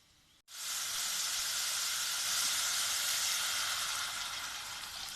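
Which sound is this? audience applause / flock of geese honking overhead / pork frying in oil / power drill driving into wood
pork frying in oil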